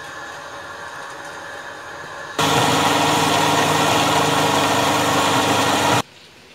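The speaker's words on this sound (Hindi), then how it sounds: "तो मैं इसको थोड़ा थोड़ा करके ग्राइंडर में डालूंगी और ग्राइंड कर लूंगी।" An electric grinder whirs loudly through a batch of cooked haleem, starting abruptly after a quieter motor-like hum, running steadily for several seconds and then cutting off, with no talking.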